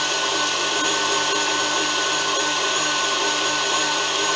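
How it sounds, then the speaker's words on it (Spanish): Electric mixer whipping egg whites and sugar into meringue for an angel food sponge cake, a constant loud motor whir with no pauses. "Y la voy a batir como si fuera un merengue."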